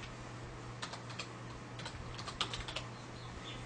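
Keys on a computer keyboard are tapped in short bursts of quiet, close clicks, with brief pauses between groups over a faint steady background hum.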